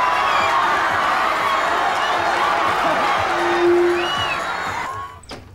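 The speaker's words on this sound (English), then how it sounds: "give him a warm round of applause" Studio audience at a 1987 behind-the-scenes taping, cheering and clapping loudly with shrill screams and whoops, sustained for several seconds before quickly dying away.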